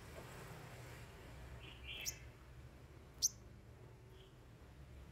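A pet sunbird kept indoors gives two short, high chirps about a second apart, plus a softer faint call, over a quiet background hum with no talking.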